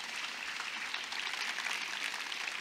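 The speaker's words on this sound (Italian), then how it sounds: "un applauso ai librai e agli insegnanti che sono rimasti la prima linea nel mondo" An audience at a live author event in Monselice claps for booksellers and teachers, a dense, steady patter of many hands at moderate volume throughout.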